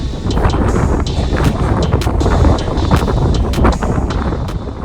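Strong wind buffets the microphone on a coastal walk at Flushing in Cornwall on a cold December day, a loud continuous roar with gusting surges and no voices.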